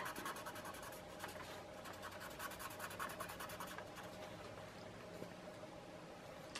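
An art pencil is turned in a sharpener, producing a faint, close, continuous scraping and rasping that lasts throughout.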